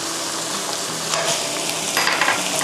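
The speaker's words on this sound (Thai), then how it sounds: "แล้วก็จะผัดหมูให้สุกนะคะ" Minced pork stir-fries in a pan without oil, with palm sugar added, giving a steady loud sizzle with occasional scraping stirs throughout.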